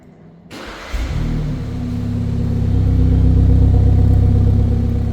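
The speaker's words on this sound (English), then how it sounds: "Let's also just do a little remote engine start, cold start." A 2026 BMW 430i xDrive Gran Coupe cold-starts by remote: a sharp crank catches, the engine flares up loudly, then settles into a steady, strong idle rumble that holds close and unbroken.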